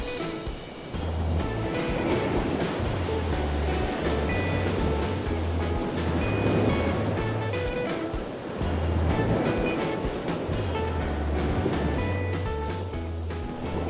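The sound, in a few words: ocean waves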